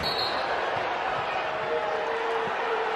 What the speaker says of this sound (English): Crowd still upset about that Omar Stanley foul